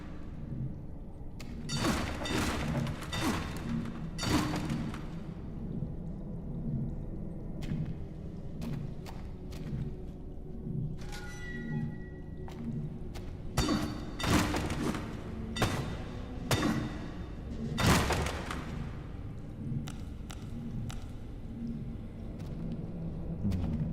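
Pickaxe swings and impacts in the horror game Total Chaos, a series of dull thuds and sharp hits spread irregularly over ambient game noise, some strikes louder and closer than others.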